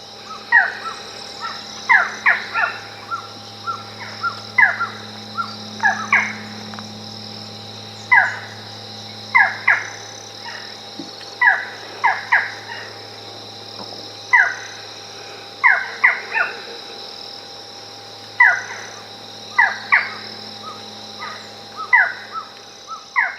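A forest falcon calls repeatedly from the forest, sharp loud notes spaced every second or two in short clusters over a steady insect-like hum, with no talk.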